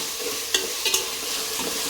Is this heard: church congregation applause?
no